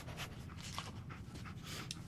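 The dog companion Dogmeat in Fallout 4 panting, a quick rhythmic run of breathy huffs, close and fairly soft, steady throughout with no speech over it.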